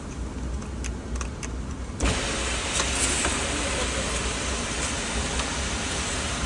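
The sunroof motor of a BMW E46 M3 runs with a scratchy, grinding whir that lacks grease, heard up close as a steady noise that grows louder partway through.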